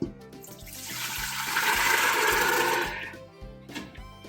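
Water and dried lobia (black-eyed peas) pour into a pressure cooker, a steady rushing splash that builds in the middle and then tapers off, with light clatter around it and no talking.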